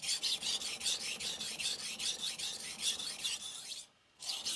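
Steady back-and-forth rasping strokes of a knife drawn across a whetstone, one side of an 800 or 1000 grit stone under light pressure, repeating evenly and close up with a brief pause near the end.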